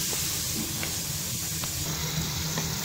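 Mutton pieces hitting hot cooking oil with onions fried for five minutes for karahi, giving a continuous loud hiss and sizzle with a low rumbling bed underneath and no voices.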